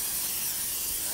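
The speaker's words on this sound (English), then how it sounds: "And I just spray them." Canola oil sprays onto food in one steady, close hiss lasting about a second, with no talk.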